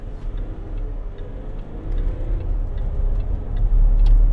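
A Range Rover Sport 3.0 SD V6 diesel pulls away from a stop, a low engine rumble building steadily in loudness from inside the cabin, with faint ticking clicks over it.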